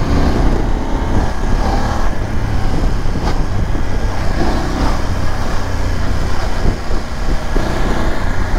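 A BMW F 850 GS motorcycle engine roars loud and close, a dense continuous rumble that pulls hard under acceleration, mixed with heavy wind noise and no talk.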